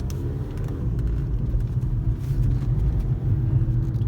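An Audi A3 with a cold engine pulls away with sluggish throttle response, producing a steady, deep engine rumble that rises slightly, with no talking over it.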